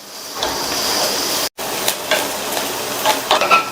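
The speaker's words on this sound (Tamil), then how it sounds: "இது கூட கொஞ்சமா கறிவேப்பிலை சேர்த்துட்டு வெங்காயத்தை 1 நிமிஷம் போல வதக்கிக்கணும்." Onion sautéing with curry leaves, mustard seeds and urad dal in a pan for poriyal, a steady hiss of sizzling with spoon scrapes and stirring clatter near the end, close and fairly loud with a brief gap midway.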